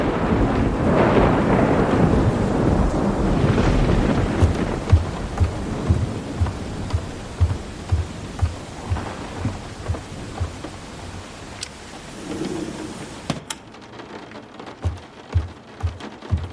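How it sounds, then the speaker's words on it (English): Steady rain falls throughout as a dramatized rainy-day storm effect, with rolling thunder early on and a sharp thunderclap near the end, followed by faint dripping. "And today, as it has been for many days prior, it's raining."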